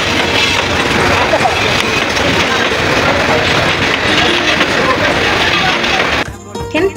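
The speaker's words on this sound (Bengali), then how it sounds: "ওই যে দেখা যায় ট্রেন তো চলেই এলো" A long passenger train rolls into a station in pouring rain on the Kulaura to Srimangal line, making a steady, loud rumble and rattle that fades near the end, with muffled voices in the background.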